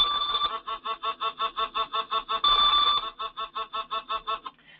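Pending alarm tone from a G7 safety monitoring device: a rapid, steady train of bright electronic beeps, about fifteen pulses with a brief sustained tone near the middle, clear and alone before cutting off.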